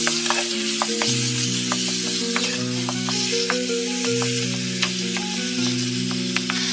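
Marinated chicken keema stirred and frying with reddened onions and whole spices over medium heat, a loud close sizzle with sustained tonal hum and occasional spoon clicks, no talk.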